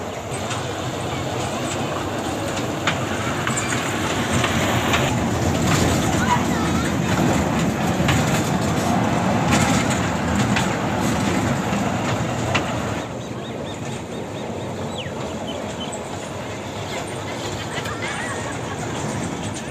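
A small park train runs through a city garden in Multan, giving a steady rolling rumble with rail clatter for most of the stretch before it eases off, while a voice talks over it and crowd chatter sits in the background.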